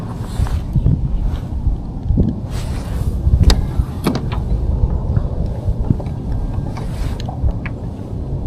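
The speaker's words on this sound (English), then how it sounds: "the wind is blowing like directly the whole length of the lake" Wind gusts across a lake past a fishing kayak, a loud, steady rumbling buffet on the microphone with occasional knocks and creaks from the boat.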